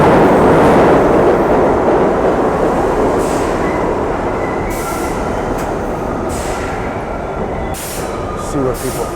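Subway train in New York City running through a tunnel, with a loud continuous roar and rattle of wheels on rails and occasional squeals, fading slightly over time.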